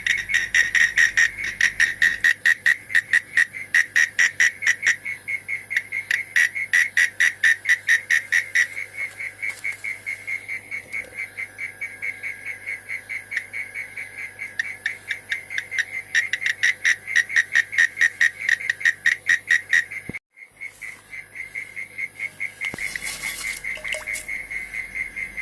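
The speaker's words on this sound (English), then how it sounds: "I'm trying to find out what sort of frogs they are" Frogs call from a garden compost heap in a steady, fast run of shrill, pulsing chirps that continues rhythmically for the whole stretch, fairly close and loud.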